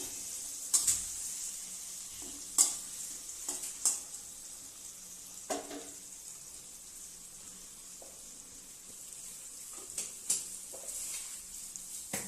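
Ginger paste stirred into a frying pan for a vegetarian tarka, giving a soft, steady sizzle with a few sharp scraping clicks of a utensil against the pan spread over the stretch.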